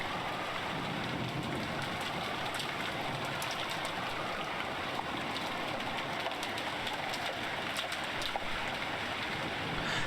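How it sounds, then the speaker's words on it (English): Rain sound effect in the visual novel Umineko When They Cry, a steady hiss of rainfall that holds even throughout, with faint ticks and no voices. "disappeared beneath the sound of the rain"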